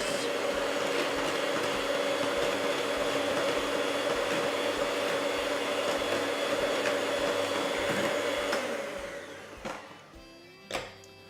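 An electric mixer beating vegan peach and almond muffin batter, a steady loud whirring drone that cuts off near the end, followed by a few light clunks.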